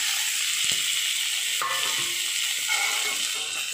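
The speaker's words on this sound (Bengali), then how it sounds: "দিয়ে একটু ভালো করে নাড়াচাড়া করে নিচ্ছি" Onions and tomato frying in hot oil after garlic, a steady loud sizzle throughout with occasional spatula scrapes and stirring knocks, close up and without talk.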